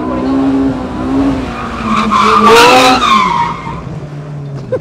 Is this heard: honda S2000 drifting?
yes